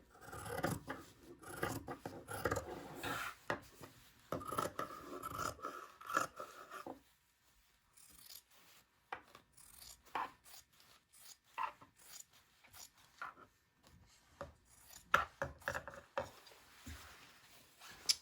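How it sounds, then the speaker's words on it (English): Scissors trim fabric seam allowances on a long, unwieldy coat, with repeated soft snips and rustling cloth in irregular bursts, quiet and close, broken by a short pause midway. "I'm just cutting my seam allowances in half."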